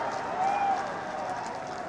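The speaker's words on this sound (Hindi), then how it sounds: "ये युवा इतनी तालियां बजा रहे हैं।" A young crowd claps at an election rally in Rohuakala, Azamgarh, a soft, fairly distant patter of applause that swells briefly, with speech-like sound mixed in.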